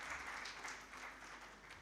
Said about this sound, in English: I think we should just give them all a huge round of applause.